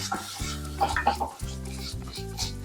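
Coriander, cumin and fenugreek seeds frying in a pan, heard as a faint low sizzle broken by repeated scraping and clinking of a spoon stirring against the metal pan.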